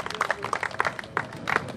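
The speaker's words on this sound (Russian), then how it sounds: "аплодисменты" Scattered, uneven clapping from a small crowd at a beach volleyball cup event, individual hand claps audible in irregular bursts, brief and fairly close.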